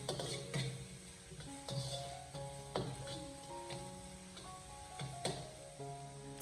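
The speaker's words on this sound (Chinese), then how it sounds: "开小火给它慢慢的翻炒一下，先把小料全部炒出香味" Chopped aromatics sizzle gently over low heat in a wok for salt-and-pepper chicken wings. The frying hiss is steady, broken by regular scraping and clanking as a spatula stirs.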